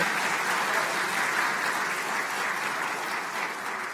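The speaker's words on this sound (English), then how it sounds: "Yeah, you can applaud that" An audience at the UCF College of Medicine's 17th White Coat Ceremony breaks into loud, dense, sustained applause that holds steady throughout, with no voices standing out.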